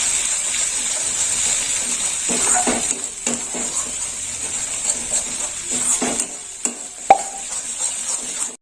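Ginger and poppy seed paste sautéed in a pan for a Mourala fish poppyseed curry, with a steady sizzle under repeated scraping and knocking of a spatula against the pan, close and fairly loud, with no talking.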